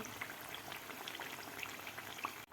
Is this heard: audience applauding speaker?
no